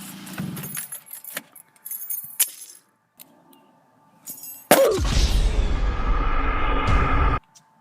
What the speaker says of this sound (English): Can I have the keys? Yeah, man, here are the keys.